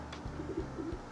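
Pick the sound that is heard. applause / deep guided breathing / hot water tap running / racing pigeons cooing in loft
racing pigeons cooing in loft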